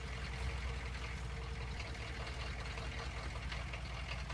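A truck engine idles steadily with a low, continuous rumble and a faint knocking texture, unchanging throughout.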